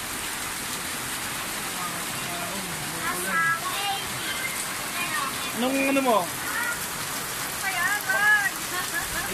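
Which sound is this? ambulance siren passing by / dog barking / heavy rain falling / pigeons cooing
heavy rain falling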